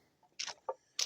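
Small young roosters in a backyard flock give short clucking calls, three brief bursts close by with quiet gaps between them.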